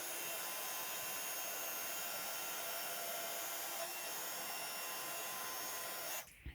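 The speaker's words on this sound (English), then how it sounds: "heat emboss it from the top as well to just melt out all" A heat gun melts embossing powder from the top, a constant faint airy whir that runs unbroken and then cuts off near the end.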